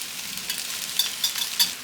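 Cooled cooked rice tipped into a hot pan and stirred for egg rice, giving a steady soft scraping sizzle with a few brief louder stirring scrapes, fairly close and with no talking.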